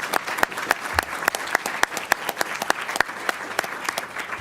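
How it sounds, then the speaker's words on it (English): Scattered, uneven clapping from a small audience at a House of Delegates meeting, crisp individual claps rather than a dense roar, continuing steadily without voices. "Could we give a round of applause to bar staff for putting this all together?"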